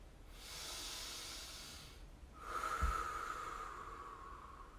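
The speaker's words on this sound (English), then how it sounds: "We're gonna do 10 big breaths." Deep breaths taken during a shoulder and upper back mobility exercise: a long, airy inhale followed by a slower exhale with a faint snort. The breathing is close and quiet, with no talk.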